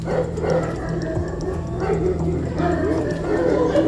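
Several Kangal and Alabai dogs bark and yip in short bursts, with whimpering mixed in, over a steady background of voices and low noise.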